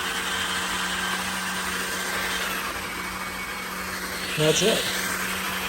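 A Levoit LVAC 200 cordless stick vacuum hums steadily on its turbo setting, a close, even motor drone with a brief voice near the end.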